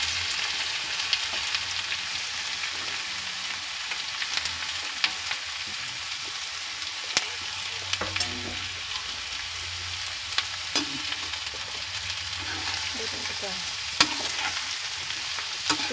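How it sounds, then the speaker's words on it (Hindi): Finely chopped onions and cumin fry in hot oil in a pan, a steady close sizzle that runs the whole time with occasional light stirring clicks and scrapes, with no voices. "जो हम अच्छे से ऑयल के साथ मिक्स कर लेंगे और इसको जो है अच्छे से फ्राई करेंगे"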